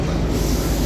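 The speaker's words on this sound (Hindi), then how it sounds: "देखते हैं ये आ रही है अपनी गोमती एक्सप्रेस" A diesel-hauled Gomti Express train draws in at Lucknow, giving a steady, loud rumble and rushing roar that holds throughout without pause.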